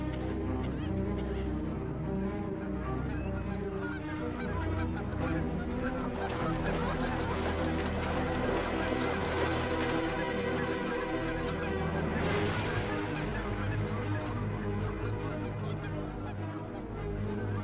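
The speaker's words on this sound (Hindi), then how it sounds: "साल के इन महीनों में यहाँ वाटरफाउल बड़ी तादाद में हैं" A large flock of waterfowl honking in the wild in autumn, a dense, continuous chorus of overlapping honks and calls, loud and close, heard alone without talk.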